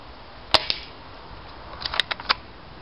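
Bison 701 two-tone SVD BB gun firing, a sharp snap followed by a lighter click, then another crisp shot with small mechanical clicks after it, close and loud over a steady background hiss.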